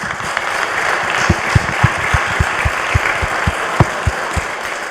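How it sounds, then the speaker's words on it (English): Audience at a conference panel on the public sector and the cloud applauding, a steady patter of many hands with a few sharper individual claps, sustained for several seconds. "I hope you will join me in giving them a big round of applause"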